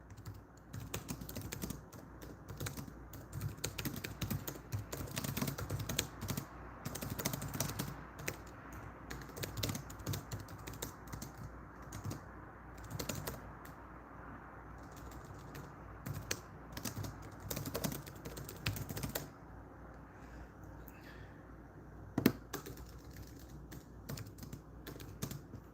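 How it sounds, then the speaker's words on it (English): Rapid, steady typing on a computer keyboard, close and continuous with dense clicking keystrokes and a few louder taps, with no talking. "I'm just typing something out quickly here."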